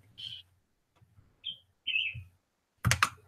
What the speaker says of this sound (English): Was that a bird? No, that was my phone.